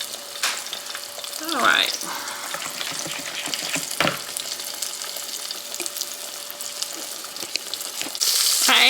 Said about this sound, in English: I'm going to let that one fry in that skillet by itself